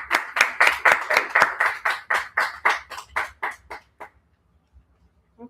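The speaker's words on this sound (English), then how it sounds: "Let's give another big round of applause to the wonderful Dr. John." Rhythmic clapping from a small audience for Dr. John, about fifteen sharp, evenly spaced claps close by that slow and thin out before stopping after about four seconds.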